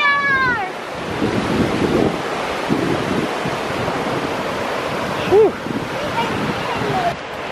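Ocean waves break and wash onto a beach as wind buffets the microphone in a steady, loud wash of noise, with children's voices chattering over it.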